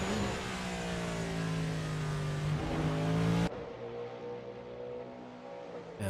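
A race car accelerating hard on the Bahrain circuit, its engine revving loud and rising in pitch, then dropping to a lower, more distant drone as it moves away.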